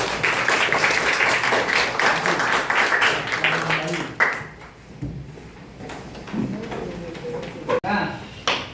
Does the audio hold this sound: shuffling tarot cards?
no